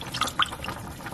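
Water poured into a pot for kare-kare made with a Mama Sita's mix, with two short splashy bursts close to the microphone and a softer liquid trickle after them.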